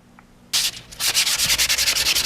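Wet sanding of carbon fiber motorcycle parts being prepped for primer: after a short quiet lead-in, a loud, close, steady run of rhythmic rubbing strokes continues alone.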